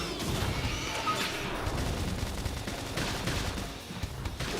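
Flame grenade attack in Xenoblade Chronicles X, heard as a dense, continuous crackling and blasting roar of gunfire-like bursts and crashes filling the whole stretch at moderate loudness.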